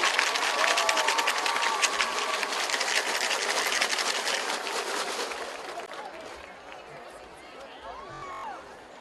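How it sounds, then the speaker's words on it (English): A stadium crowd at a high school football game claps loudly in a long, dense burst for the 2018 homecoming court, then the applause fades to murmuring chatter. "Let's give our 2018 homecoming court a big round of applause"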